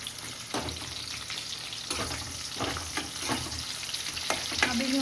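A spoon stirs food frying in a pan for raw mango rice: a continuous crackling sizzle broken by repeated scraping strokes at a loose, unhurried rhythm, close and clear.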